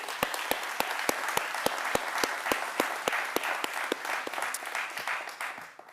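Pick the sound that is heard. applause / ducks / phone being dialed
applause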